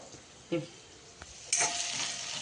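Vegetables and basmati rice are stir-fried in oil in a pan for spicy Schezwan fried rice, with a clang, then a sudden burst of loud close sizzling and stirring.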